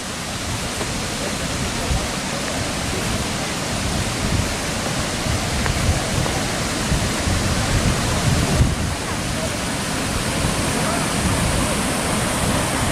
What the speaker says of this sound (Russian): Мы идем к водопаду Егала-Юга.